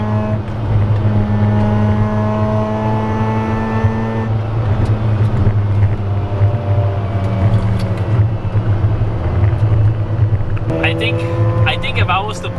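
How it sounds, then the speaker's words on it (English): Mazda RX-8 engine racing on a track, a loud, steady engine drone with shifting harmonic tones as it revs, and backfire pops aren't clearly distinct within it; a voice talks over the engine throughout. "You can hear the RX-8 like backfiring so much too."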